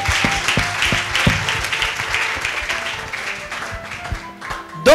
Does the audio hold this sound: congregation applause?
yes